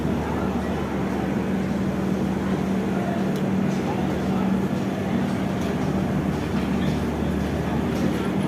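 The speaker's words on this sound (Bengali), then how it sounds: "আমাদের ট্রেন এখন এই মুহূর্তে ছেড়ে দিল 9:45-এ গরিব রথ, কলকাতা টু শিলিগুড়ি" The Garib Rath train from Kolkata to Siliguri pulls away, and its wheels and carriages rumble in a steady, dense roar. Faint talk rises within the continuous rail noise.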